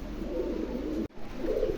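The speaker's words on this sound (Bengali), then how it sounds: "দর্শক এখানে দেখতে পাচ্ছেন এক পেয়ার মিলি হোমা কবুতর" Low, throaty pigeon cooing close by, a soft rolling call that breaks off briefly before starting again.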